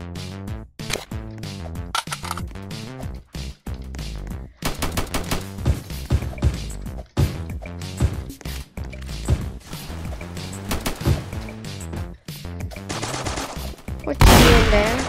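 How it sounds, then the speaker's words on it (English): A shotgun fires in a Roblox game, with loud, rapid bursts of game gunfire repeating throughout and a harsher crash near the end. "It's a shotgun."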